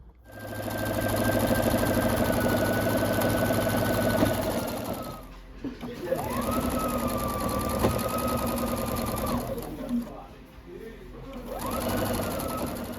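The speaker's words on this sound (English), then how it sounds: "I am sewing together rows 7 through 12" Sewing machine stitching quilt rows together, a steady motor hum with rapid needle chatter, running for about four seconds, pausing briefly, then resuming in two more runs.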